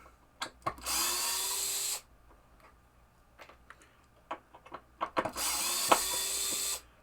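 A power screwdriver whirs in two sustained bursts while removing screws from a 1973 Williams pinball playfield, with close clicks, taps and small mechanical handling noises between and around the runs.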